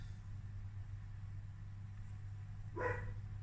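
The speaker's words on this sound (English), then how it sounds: "when Sunny starts barking, that means Shelly's here." A single short dog bark rings out near the end, over a steady low hum and faint background noise.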